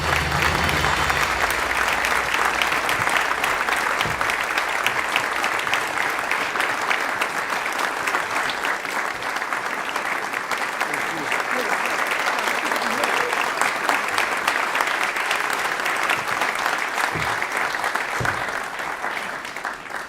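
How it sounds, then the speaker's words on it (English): A concert audience at a band's holiday pops show applauds loudly and continuously for about twenty seconds, a thick sustained patter of many hands with faint crowd murmur underneath. "Would you please give a warm round of applause to Mark Vincennes."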